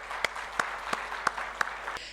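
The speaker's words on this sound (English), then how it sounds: "I think we can do better if we kickstart the afternoon with a good round of applause." Audience applause in a conference hall at an annual directors' gathering, a steady wash of clapping with a few sharper claps standing out at regular intervals, no voices over it.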